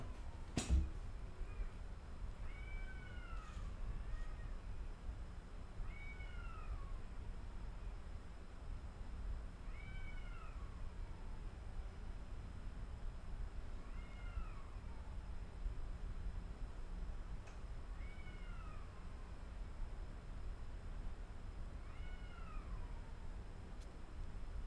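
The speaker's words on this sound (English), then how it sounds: "Wait, there are cats fighting." Cats fighting somewhere in the distance, a string of faint, drawn-out yowls and wails at fairly regular intervals over a steady low background hum.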